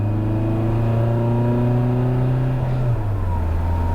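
A German TDI diesel car engine holds a loud, steady high-rev drone with a constant pitch, then its pitch drops as the revs ease off near the end, heard alone and close with no talking.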